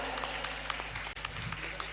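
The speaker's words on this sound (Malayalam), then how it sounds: "നിറഞ്ഞ കയ്യടിയോടുകൂടി ഗീത ടീച്ചറിനെ വേദിയിലേക്ക് സ്വാഗതം ചെയ്യുന്നു." Applause greets a teacher coming onto the stage at a school tribute ceremony. The clapping is soft and distant, a steady patter of many hands that barely dips once.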